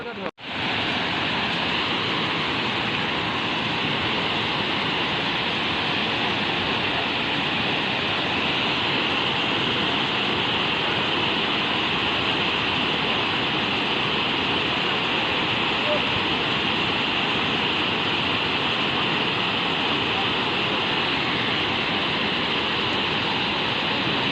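The Devkund waterfall in Odisha roars without a break, a dense, loud, close rush of falling water that holds steady for the whole stretch.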